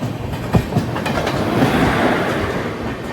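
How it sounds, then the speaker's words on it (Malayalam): Coimbatore Junction to Mangaluru Central express train heard from inside a sleeper coach while approaching Thalassery: steady loud rolling rumble with a few wheel clacks over rail joints, no talk. "ട്രെയിൻ ഇപ്പോൾ തലശ്ശേരിയിലേക്ക് എത്തുകയാണ്."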